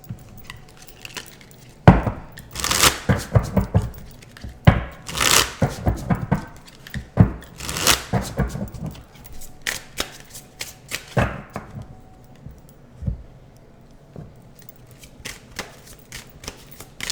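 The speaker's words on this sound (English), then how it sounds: "I'm just going to shuffle each deck" Decks of tarot cards being shuffled by hand, a series of irregular riffling slaps and soft shuffling clatters, close and moderately loud, gradually thinning out toward the end with no talking.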